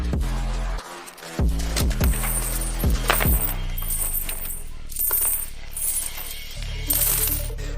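Coins from a jumbled collection of foreign money are handled and dropped, giving a run of bright metallic clinks and chinks in bursts, close by, with rustling between them and no voices.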